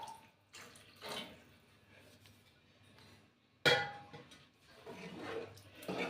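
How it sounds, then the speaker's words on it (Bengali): Water poured into a pan of browned soybean curry, a sudden splash and sizzle that rushes in loudly, then a steady running gush close by, with light clinks of metal. "এবারে জল দিয়ে দিলাম, কষা হয়ে গেছে।"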